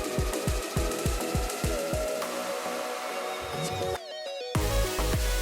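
A food processor kneads a sticky, stretchy brioche dough, giving a rhythmic slapping thump that repeats quickly, then a steadier churning whir with a brief pause near the end before the motor runs on.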